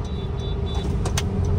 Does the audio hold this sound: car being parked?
yes